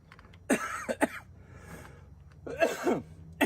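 A man coughs several times, close up, in two short bursts separated by a quiet pause with low background hum.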